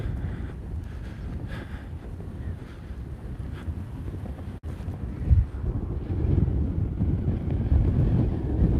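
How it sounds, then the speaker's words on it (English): Sudden high winds blow straight into the microphone in an unsteady, rumbling roar that surges louder partway through, with one sharp thump in the middle. "We've got some high winds just stirring up all of a sudden."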